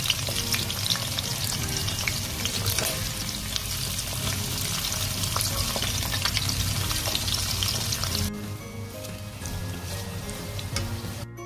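Garlic cloves fry in a pan, sizzling and crackling continuously at close range, with occasional stirring scrapes and a brief shift in texture toward the end.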